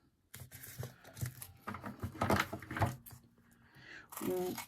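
Scissors snip and work through tape stuck on cardstock in a run of crisp, close cutting and crackling sounds, with a voice heard at points in the background.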